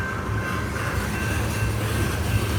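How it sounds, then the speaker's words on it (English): A CSX coal train rolls past in Mount Airy with a steady, loud, continuous rumble and wheel noise that holds at an even level throughout, with no voices. "This train is going to be long"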